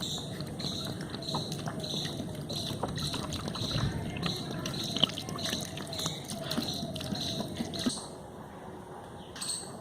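Water poured thoroughly onto the soil around a freshly transplanted butterfly pea (Aparajita) vine in a 10-inch-deep hole makes a steady trickling and splashing, with scattered drips, continuous and close for the whole stretch.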